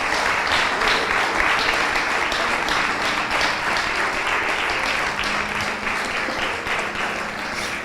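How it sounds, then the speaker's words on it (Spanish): A church congregation in Mar del Plata bursts into sustained applause during a Sunday service, the clapping steady and loud throughout and easing slightly toward the end. "Dale un aplauso al Señor."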